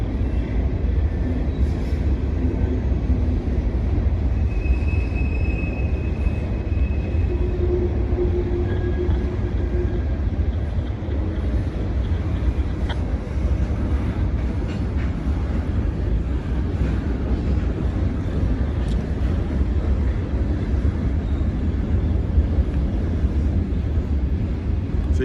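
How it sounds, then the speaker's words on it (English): A long coal train rumbles steadily across a massive river bridge between Kenova, West Virginia and South Point, Ohio, a continuous low roar with faint squeals and wind buffeting the microphone. "Train is going to be going into South Point, Ohio"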